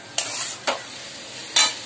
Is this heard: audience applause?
no